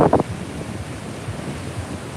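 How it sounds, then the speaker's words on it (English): Ocean surf along the Brooklyn, New York shoreline makes a steady, low, rushing wash mixed with wind noise on the microphone, after a brief louder sound at the very start. "the sound of the ocean, so relaxing, Mary"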